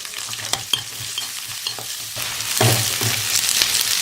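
Onions frying in hot oil in a kadai with garlic and mustard seeds for sorakkai kuzhambu, a close, steady sizzle broken by scraping stirs that grows louder and hissier in the second half, with a low hum beneath.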